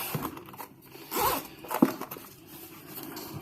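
A zipper is pulled along a case in a few short, raspy strokes, close up, with light handling noises around it.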